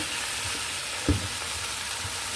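Fish dropped into a pan of sizzling masala with dry chili powder, a single soft thump followed by steady, close frying and crackling that continues throughout.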